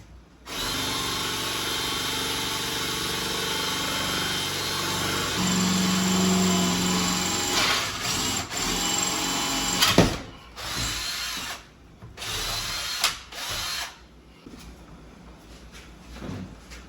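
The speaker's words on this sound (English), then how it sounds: "I'm going to take my 1/4-inch drill bit and I'm going to make my first hole right there." A power drill with a quarter-inch bit whines steadily for about ten seconds, then bites in with uneven revving bursts and stops and starts, close and loud.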